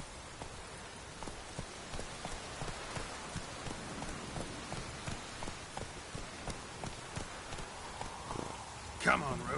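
Geralt's horse Roach trots through the rain in The Witcher 3, its hooves clip-clopping in a steady rhythm under constant rainfall, with a brief louder sound near the end.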